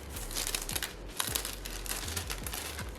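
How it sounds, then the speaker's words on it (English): Plastic bag crinkling close up as stickers are slipped inside, continuous rustling and crackling with a few sharper crunches, no talking. "So here's my plastic bag right here."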